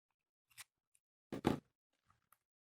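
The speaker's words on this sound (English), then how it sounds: "you only have to cut very lightly through the washi" A craft knife or blade cuts lightly through washi tape in a couple of short, crisp scraping strokes, close and isolated, with small faint ticks between.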